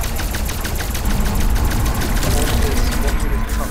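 Dense, continuous video game gunfire rattles loudly in fast repeated bursts, with people talking over the din throughout.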